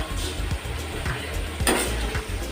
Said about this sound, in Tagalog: Magigisa ka ng bawang sibuyas.